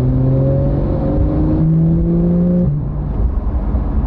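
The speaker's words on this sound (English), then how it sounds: "God, it changes gear quickly, doesn't it?" A Porsche GT3 with the 4.0 engine accelerates hard, its steady engine note rising through two quick gear changes near the microphone; fairly loud and uninterrupted, with no voices.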